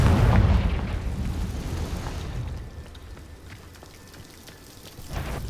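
A Confringo fire spell in Hogwarts Legacy bursts as a heavy, booming explosion at the start, its rumble fading over a few seconds into a crackling tail, with a softer thud near the end.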